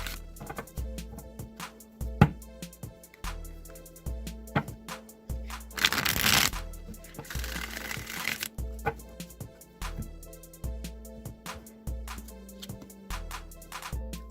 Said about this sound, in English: I'm going to shuffle the Rider-Waite deck now